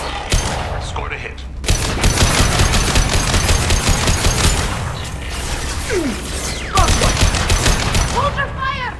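Sustained automatic gunfire in the video game Mass Effect 2, dense rapid bursts with booming impacts and brief pauses, loud and close throughout, with game voices speaking over the firing.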